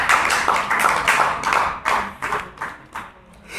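A church congregation claps in a steady, fast rhythm to acclaim the Lord, loud and close at first, then thinning into a few scattered claps.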